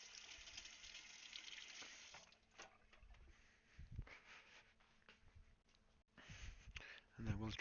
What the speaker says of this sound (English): I'm just gonna go and rinse this out with some water